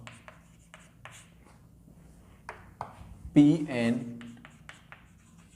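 Marker or chalk strokes on a board during a maths lesson come as short scratchy bursts, with a voice speaking briefly in the middle.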